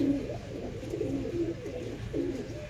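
Breeding pigeons in a loft coo in repeated low rolling phrases, about four swelling calls rising and falling in a slow rhythm, fairly quiet and close.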